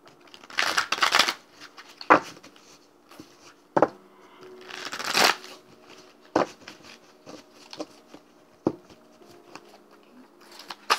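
Tarot cards being shuffled before a card is pulled, giving soft papery riffles and brushes in several bursts with taps and flicks between them, close and fairly quiet, with no talk.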